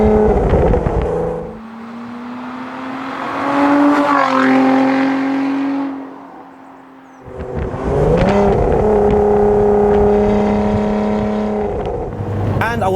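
A Lotus Emira sports car drives on the road, its engine note loud and close, swelling and easing through gear changes as it accelerates and lifts off.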